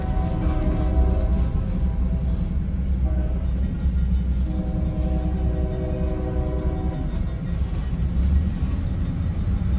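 A short train passing nearby, a loud continuous rumble of rolling wheels and rail noise with faint high squeals, sustained throughout.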